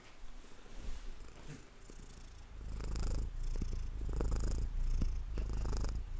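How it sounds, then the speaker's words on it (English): A cat purrs close to the microphone, a low steady rumble that swells and continues, with faint rustling near the start. "Hear my cat purring?"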